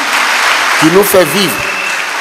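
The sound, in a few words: audience applause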